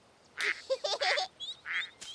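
Duck quacking in a French children's cartoon, a series of short nasal quacks in a broken rhythm, close and fairly clear with no talking over it.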